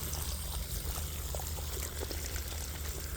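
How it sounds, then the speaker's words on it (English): Water pours steadily through a sand-filled drain gully, a continuous close rushing and trickling wash that stays fairly even throughout. "Get some water flowing through it."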